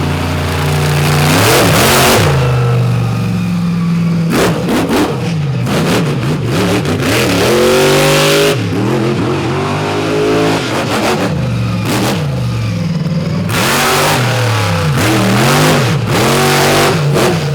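A truck engine revs hard in repeated loud bursts while driving at a night event in Benson, North Carolina, climbing and dropping in pitch with brief lulls between pulls, close and alone.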